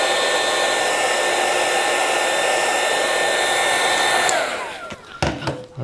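A heat gun or hair-dryer-style blower warms the adhesive behind a motorcycle gas tank badge, a steady close whooshing hum that cuts off near the end, followed by a few handling clicks.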